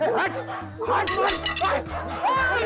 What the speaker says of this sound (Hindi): गाल कुत्ता है सर, अगर पेट में काटेगा ना 14 इंजेक्शन लगेंगे।